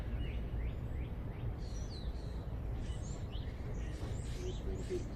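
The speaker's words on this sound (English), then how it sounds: "listen to the sound of the birds. Appreciate their song" Faint bird chirps and short song phrases drift in and out, scattered and distant, over a steady low background rumble.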